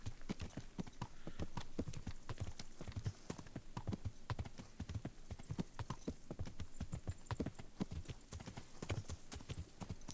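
Horse hooves gallop in a steady, fast rhythm across countryside in the medieval game Kingdom Come: Deliverance, loud and continuous throughout with no talk over them.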